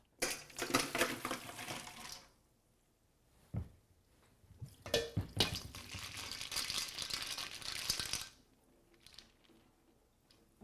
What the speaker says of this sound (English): I'm going to walk over to the sink and drain these out